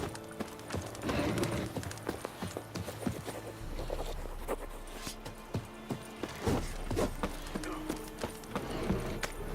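Roach the horse in The Witcher 3 gallops at a steady pace, giving a loud, rhythmic run of hoofbeats with an occasional snort, set over game music.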